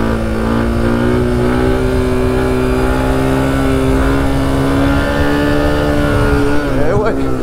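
A Suzuki DR 350 enduro motorcycle on an off-road trail, its engine droning loud and close with a steady, rising rev. Someone talks over the engine noise.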